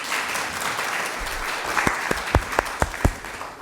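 A loud burst of applause from an audience at an agricultural policy event, a dense wash of clapping that thins into a few sharp, separate, close claps toward the end.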